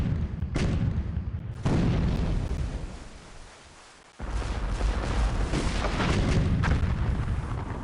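Ship cannon fire in the video game Port Royale 2, heavy booming blasts recurring at irregular intervals with rumbling tails, loud and close, a short lull midway before the barrage resumes, with no speech.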